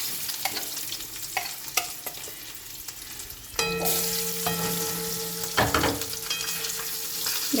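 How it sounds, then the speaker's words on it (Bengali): Hilsa fish roe fries in a pan with hot oil, a continuous close sizzle with stirring scrapes that turns louder and denser partway through. "ইলিশ মাছের ডিমগুলো ভেজে নেব।"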